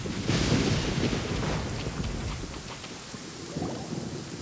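Heavy rain pours steadily in the Genshin Impact video game, a dense close hiss with low rumbling thunder swelling underneath, no talk.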